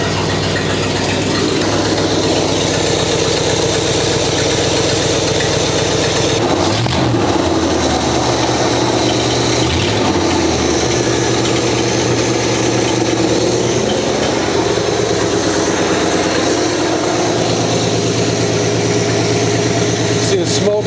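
A 1956 Chrysler Windsor engine idles steadily and loudly up close, not yet revved and low on coolant, with smoke off the exhaust manifolds; a continuous low rumble with slight shifts in pitch partway through.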